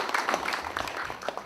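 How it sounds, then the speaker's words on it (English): Brief scattered applause from an audience, a short patter of hand claps with some light voices mixed in. "give me a round of applause"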